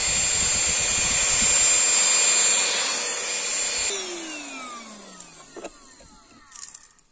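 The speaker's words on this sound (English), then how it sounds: "This is kind of a long, flexible hose to really get into those crevices that you can't reach with the larger machine." An XREXS handheld vacuum with a long flexible hose runs with a steady high whine, then powers down, its pitch sliding lower as it fades, followed by a few small knocks.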